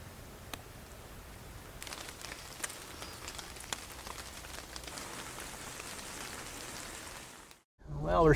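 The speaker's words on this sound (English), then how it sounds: "we're still getting a little bit of light drizzle" Light drizzle falling at a Michigan campground, a soft continuous patter with scattered nearer drops on surfaces, steady and fairly close, ending abruptly as a voice begins.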